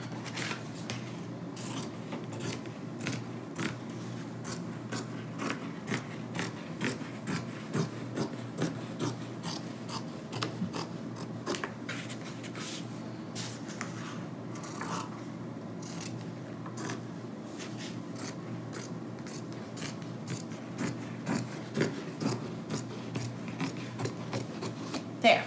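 Scissors cutting fabric panels for a wrap skirt, a long run of quick crisp snips and soft rustling of cloth, close and steady throughout, with faint talk in the background.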